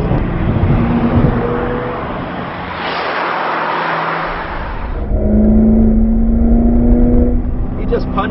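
A Corvette engine with its solenoid-valved exhaust opened revs hard up close, a loud steady roar that surges louder and deeper midway as the throttle is punched, with a voice faintly under it.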